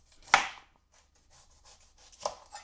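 A knife chops yam on a board in two clear strikes, each followed by quieter rubbing and scraping, close and fairly faint, with no talking.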